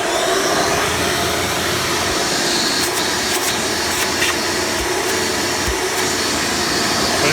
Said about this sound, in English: The suction from this is really not the highest. One, because it's a direct air machine.